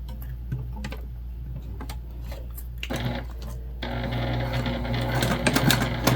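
A sewing machine stitches darts on a bag, starting with short bursts and pauses for back stitching, then running in a longer, faster continuous stretch, close and clear.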